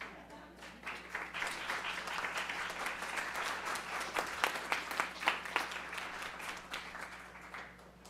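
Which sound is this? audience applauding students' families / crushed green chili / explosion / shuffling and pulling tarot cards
audience applauding students' families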